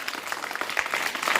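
A group of classroom children at story time clap harder on request, a thick continuous patter of claps that grows slightly stronger toward the end, moderately distant.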